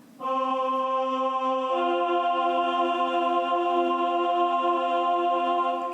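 Two sustained tones sound together as a clean perfect fourth interval, one entering after the other, steady and bright with no voices.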